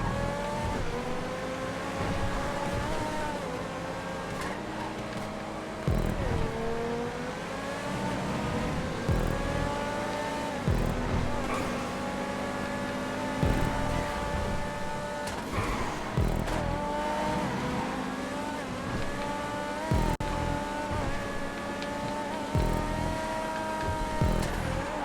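Race cars screaming around a GTA 5 track, engines droning and revving loudly and continuously with gear shifts and occasional tire squeal, several cars close together.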